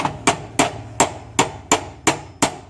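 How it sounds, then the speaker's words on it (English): Hammer tapping a nut fitted onto a worn front lower rear control arm from a Ford Territory, eight sharp metallic knocks struck at a steady, even pace, close and clear with no talk. "You've got to knock it around with the hammer."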